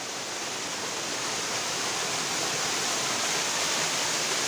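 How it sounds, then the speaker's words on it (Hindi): Steady, full rush of falling water from a small mountain waterfall, close and continuous without pause. "तो चलिए फिर दिखाते हैं आपको एक छोटा सा झरना।"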